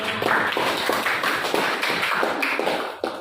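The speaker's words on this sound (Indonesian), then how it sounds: "Tepuk tangan buat kelompok 2." A student class applauding a group's presentation, a small room of hands clapping in uneven bursts for a few seconds, fairly close.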